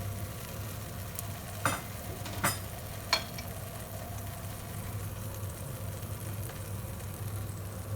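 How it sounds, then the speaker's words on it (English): Steady low sizzling of cheese in a sandwich toaster with a constant background hum, broken by a few sharp clicks and scrapes. "Here it's sizzling away there as I've just gone over the edge a little bit"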